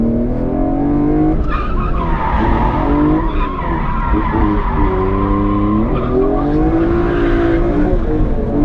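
Rental drift car skidding on a track with a wet spot, tires squealing steadily and loudly throughout as the engine wails and shifts pitch, close and continuous with no talk.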